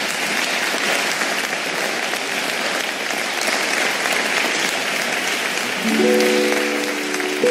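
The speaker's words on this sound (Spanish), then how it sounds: "¡Un aplauso!" An audience at a televised anniversary gala in Madrid applauds loudly and steadily, a dense wash of clapping that carries on throughout, with a sustained musical chord entering near the end.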